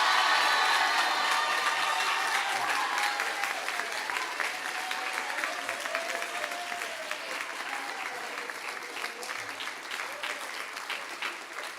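A crowd claps warmly at an eighth-grade graduation ceremony. The applause is steady and sustained, rising quickly and then easing off very slowly over about twelve seconds, with a few faint cheers mixed into the clapping.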